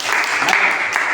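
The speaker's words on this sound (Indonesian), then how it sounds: "Boleh berikan tepuk tangan bersama-sama." A school class applauds together at the end of a lesson, a brief burst of dense, close clapping.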